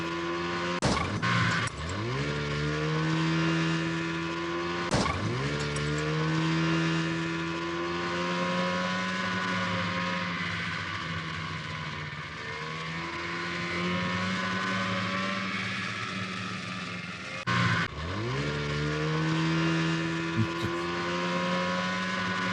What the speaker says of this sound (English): Snowmobiles are a common method of transportation at this time of year in the Alps.